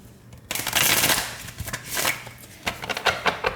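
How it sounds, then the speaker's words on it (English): A tarot card deck shuffled by hand, loud close bursts of riffling and slapping cards in uneven spurts, with a brief pause between them and no voice. "Let's do one more shuffle"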